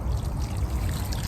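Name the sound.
water from a garden hose around a plant's root ball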